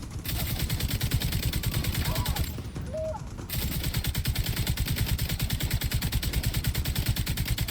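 Rapid sustained gunfire in The Division 2, a dense automatic burst of evenly spaced shots, briefly pausing midway before resuming just as loud and fast.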